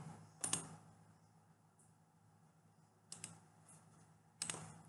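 Computer keyboard and mouse clicks, three sharp isolated taps spread across a quiet stretch, close and clear with nothing else over them.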